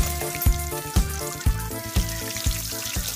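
A pork knuckle deep-fries a second time in very hot oil over low heat, with a steady bubbling sizzle and dull, evenly spaced thumps about twice a second.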